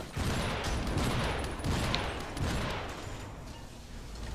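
Dense, rumbling bursts of gunfire and explosions in the video game Iron Brigade fill the whole stretch, loud and layered without clear breaks, gradually easing toward the end.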